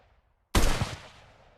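A single gunshot fired in single-fire mode in the VR game Gunworld VR, one sharp loud crack out of near-silence that decays quickly, heard alone.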